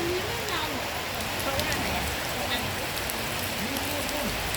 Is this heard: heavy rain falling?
yes